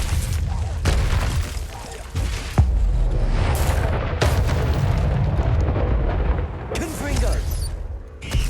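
The Confringo explosive spell is cast repeatedly in Hogwarts Legacy, producing a run of loud booming blasts and crackling bursts one after another over dense, continuous battle noise.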